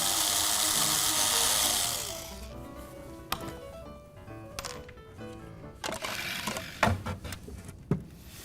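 Power screwdriver driving a screw and drilling into a laminated furniture panel during cabinet assembly, a sustained whirring burst at first, then scattered clicks, ratcheting and short knocks from handling nearby.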